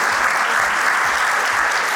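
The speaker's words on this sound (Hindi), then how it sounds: "जोरदार तालियां होंगी इनके लिए।" A corporate award-night audience claps in a dense, steady round of applause that carries on evenly for a couple of seconds, with no other sound over it.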